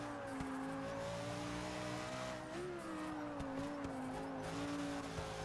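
Racing car engine in a video game on the Nürburgring circuit, a steady loud drone with rising and falling pitch as it shifts and takes corners, with occasional tyre squeal; no talking.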